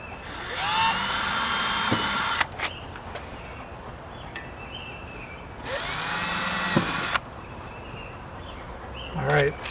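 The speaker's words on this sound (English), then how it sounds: "Let's drill a hole" A power drill whines at high speed in two long bursts, several seconds each, drilling holes on an Aliner camper, separated by a pause with faint clicks and handling noise.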